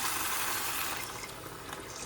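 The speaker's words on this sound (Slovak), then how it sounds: "Zalieme to vývarom." Broth pours into a pan with a soft, continuous splashing trickle, fairly faint and steady, easing slightly toward the end.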